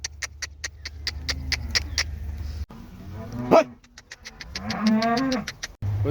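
Cattle on a cow farm in Saudi Arabia moo several times, long low calls with rich harmonics, close by, punctuated by a sharp rhythmic series of clicks or knocks and a dog barking briefly in between.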